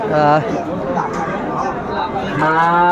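Cattle, including Sahiwal bulls, moo loudly at the start and again near the end, with a busy crowd murmuring in between at a crowded livestock market in Sirajganj.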